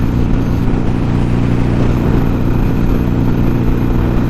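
Steady, loud engine drone from a motorcycle on a road ride between Atascadero and Pozo, with heavy wind rush from a full helmet, continuous and unbroken with no talk.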